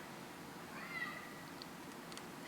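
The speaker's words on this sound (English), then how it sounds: "I hear him meowing far away." A cat meows faintly from down a hallway, a single thin distant call over quiet room tone.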